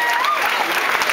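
A crowd applauds the stroll show participants at the close of the event, a steady wash of clapping with some cheering that fills the whole short stretch at an even level.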